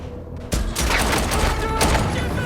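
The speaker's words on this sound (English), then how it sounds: "Outside, they come under gunfire once more, and there is chaos." A sudden loud burst of gunfire erupts and keeps going as a dense, chaotic volley of shots, close and overwhelming.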